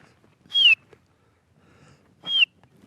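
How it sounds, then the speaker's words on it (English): A cheetah cub gives two high, whistle-like chirps about two seconds apart, each short and sliding slightly downward, clear against a quiet background. "Call it a cheetah chirp"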